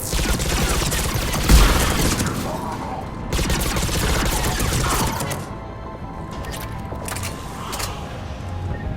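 Cannons firing in a video game: heavy, rapid booming volleys in dense bursts over a constant roar of battle, with a voice speaking over parts of it.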